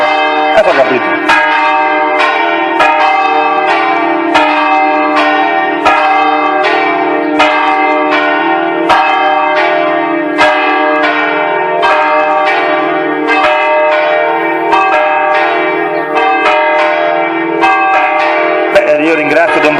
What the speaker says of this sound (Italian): questa scampanata che ci voleva